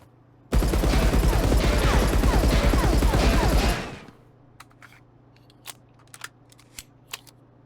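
An Uzi submachine gun fires one continuous full-auto burst of about three seconds while aiming down sights in the game Marauders. The loud, dense rattle is followed by a low hum and a few faint clicks.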